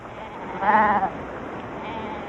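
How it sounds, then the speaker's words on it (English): A single drawn-out bleat from a goat in Ladakh, fairly close, rising briefly over a steady outdoor background hiss. "The goats are a great temptation."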